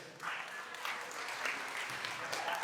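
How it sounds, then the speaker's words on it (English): An audience applauds the hosts at a poetry evening, a soft, steady patter of clapping from a modest crowd at some distance, lasting throughout. "Give a round of applause for your hosts."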